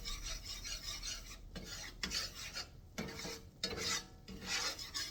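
A utensil stirs flour around a pot to brown it, giving a soft, close rasping scrape in uneven repeated strokes.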